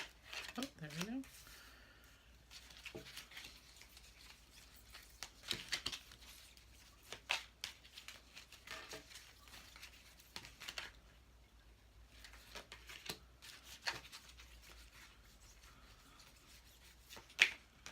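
A tarot card deck is shuffled in quiet, soft bursts of riffling and card taps spread across the stretch, with faint low voice murmurs in places.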